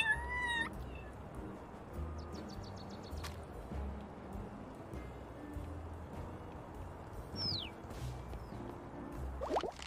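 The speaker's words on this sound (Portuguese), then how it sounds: "agora eu consigo miar" A cat meowing in the video game Little Kitty, Big City, with short meows and quick chirpy cries scattered over a steady ambient game soundscape with occasional drips and clicks.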